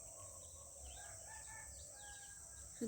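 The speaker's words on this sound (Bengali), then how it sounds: "পাখির ডাক, পোকামাকড়ের ঝিঝি পোকার ডাক, এইসবই শোনা যায়" A constant high-pitched drone of crickets fills a quiet rural outdoor scene in Purulia, West Bengal, while a distant bird calls faintly, ending in a short nearby bump.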